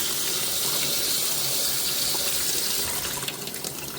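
Water from a sink tap pours steadily through a potted Miltoniopsis orchid, a loud continuous splashing gush with no break.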